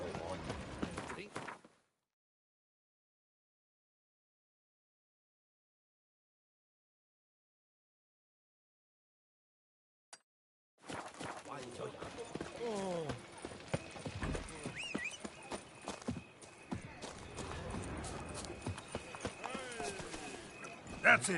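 Geralt's horse Roach trots through Toussaint in The Witcher 3, steady hoofbeats under game ambience with someone talking, after a long stretch of silence.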